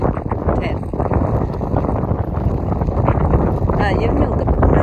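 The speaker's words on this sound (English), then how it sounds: "So windy, look at my tent." Strong wind at New Melones Lake buffets the microphone in a continuous loud roar, with faint voices barely audible beneath the gusts.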